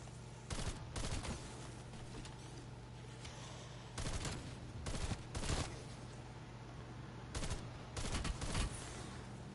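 Bursts of automatic gunfire in Call of Duty Cold War Zombies, several rapid volleys of sharp shots spaced across the stretch over a steady low game hum, loud and close with no talk.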